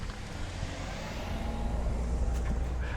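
A car passes by a quiet rural Japanese train station during cherry blossom season: a steady low engine and road rumble that slowly grows louder as it nears, with no talk.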